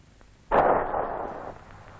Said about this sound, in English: Sometimes the self-destruct element in the RPG-7 detonates in the sandbags